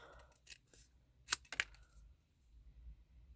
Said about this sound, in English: always keep the scissors facing forward and move the paper